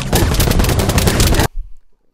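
Rapid heavy gunfire from The Incredible Hulk movie, a loud dense burst of machine-gun shots lasting about a second and a half before cutting off abruptly into near silence.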